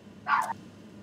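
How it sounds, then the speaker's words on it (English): A single short dog bark rings out at close range, one sharp burst against a quiet background. "Sorry for the barking,"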